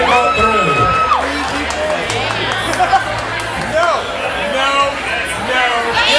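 A karaoke crowd at a bar chatters, claps and whoops with scattered cheers and shouts, while voices talk over the lively babble throughout.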